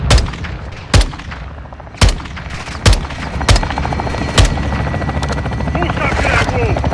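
Heavy gunfire from a Call of Duty night mission: several loud, spaced booming shots over a constant helicopter rotor drone, with radio chatter and voices in the background.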